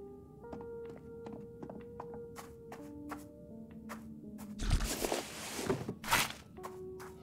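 Several heavy guns are set down on a table one after another in the video game High on Life, giving a few dull thunks and knocks with a louder clattering cluster near the end, over quiet game ambience and music.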